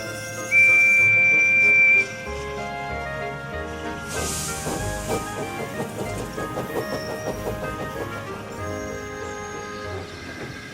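A shrill steam engine whistle from a small tank engine, a short piercing tone near the start, followed by softer hissing and music-like sounds.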